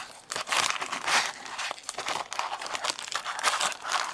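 Crinkly foil trading card booster packs from a Blue Shock booster box rustle and crumple as they are shuffled together, close up, in quick irregular bursts.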